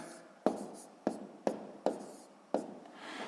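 A pen writes numbers on paper while working a sixth-grade column multiplication problem. Five distinct, close tapping strokes land at uneven intervals against a quiet background.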